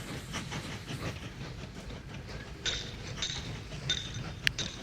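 Train arriving at a station in the railway-building game Mashinky: a steady low rumble of rolling rail cars with clickety-clack, joined near the end by repeated short high mechanical chimes or squeals and a sharp click.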